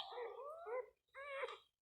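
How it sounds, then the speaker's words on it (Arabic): Local baladi street dogs give two short, whining yelps or barks in quick succession, fairly faint with a brief pause between them. "دي كلاب ولا بلدي"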